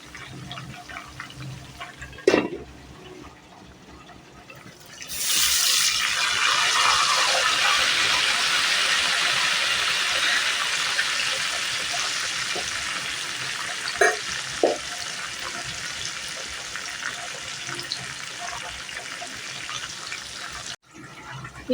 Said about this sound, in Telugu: ఇలా మనం ఫ్రై చేసుకోవాలి.